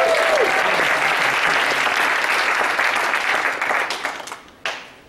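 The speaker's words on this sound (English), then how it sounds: "Let's hear a round of applause" A burst of enthusiastic applause from the audience at a video game demo night in New York, thick and loud at first, then thinning into a few last isolated claps as it dies out.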